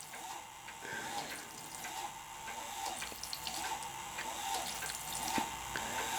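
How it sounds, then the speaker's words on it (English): A small plywood nodding-donkey water pump kit pumps water, giving a continuous splashing trickle with faint drips and light clicks, steady and close. "It's actually pumping water."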